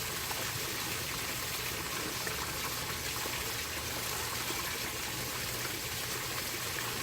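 Water rushing out of the valve of a 300 gallon tote, a steady, continuous gushing flow with no change in level or rhythm, moderately close and without talk.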